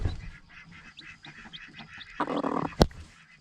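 A mother hen protecting her newly hatched baby chicks gives a run of short, fowl-like clucks and calls, rising to a louder, harsher burst near the end with a sharp knock.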